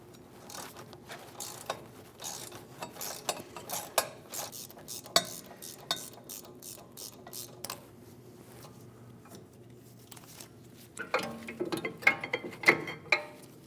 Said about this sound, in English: Using a 7mm Allen, we're going to remove the 2 caliper bolts.